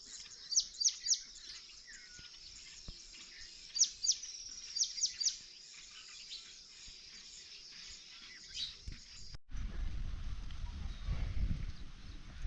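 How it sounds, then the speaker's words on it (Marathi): Birds chattering outdoors in the morning, bursts of sharp chirps in small clusters over a quiet background, followed by a rumbling noise near the end. "कोक्या पक्ष्यांचा कालवा चालू आहे"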